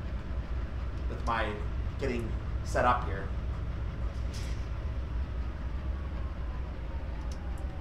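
A freight train on Cajon Pass rumbles steadily in the background as it begins reversing, a low continuous drone from nearby under a voice talking.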